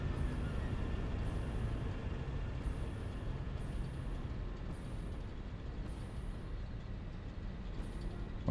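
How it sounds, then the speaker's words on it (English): A train in the video game Satisfactory rumbles along as a continuous, fairly loud mechanical drone with a repeating high pulsing tone, heard alone without talk. "There's the train coming back"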